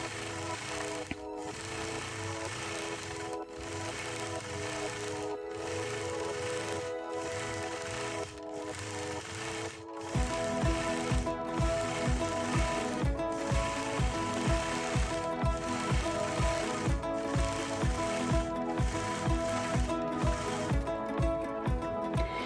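A sewing machine quilting a snowball block with So Fine thread runs in a steady, close mechanical rhythm of rapid stitches. Partway through it speeds up into a louder, fuller whir of repeated needle strokes.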